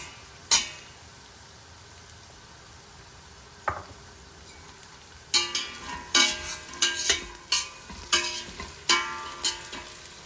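Potato and carrot pieces for sweet corn biryani hit hot oil in a pan, with a soft background sizzle broken by sharp clattering bursts of stirring and scraping that grow frequent toward the end.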